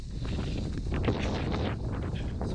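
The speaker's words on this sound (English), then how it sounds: "It's very windy." Strong wind buffets an outdoor campsite with a tent on guy ropes, a steady loud roar of gusts battering the microphone throughout with no voices.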